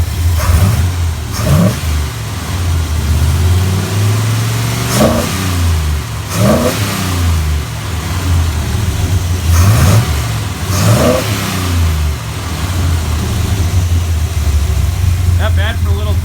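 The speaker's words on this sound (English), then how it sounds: "Love the way this motor sounds." A 1953 Chevrolet Bel Air gasser hot rod with a small 305 engine idles with a deep, steady rumble and is blipped into several sharp revs. The revs come at irregular intervals, loud and close, under occasional talk.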